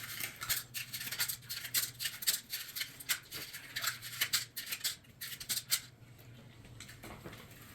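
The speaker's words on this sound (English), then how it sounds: "Now, you need to place your cupcake paper thingies into their places." Paper cupcake liners being set into a baking pan, a run of light crinkling, rustling taps and small scraping clicks in uneven bursts, close and fairly quiet, with no one speaking.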